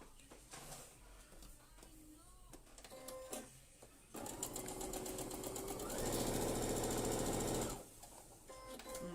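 A sewing machine stitches a seam on a lone star patchwork quilt block, running in a loud, steady whir for several seconds midway, with quieter handling noises before and after.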